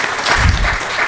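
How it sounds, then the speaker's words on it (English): An audience at a research meeting applauds a presenter, a brief burst of dense clapping from many hands filling the room, loud and close. "Please, let's give him a round of applause"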